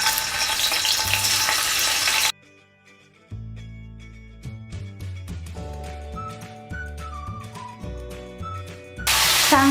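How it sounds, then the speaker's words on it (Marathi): Paneer pieces fry in hot ghee in a kadai, a steady loud sizzle for the first two seconds that drops out while background music plays, then returns sharply at the end. "आता हे पनीरचे तुकडे आहेत ना ते आपल्याला तुपामध्ये फ्राय करून घ्यायचे आहेत"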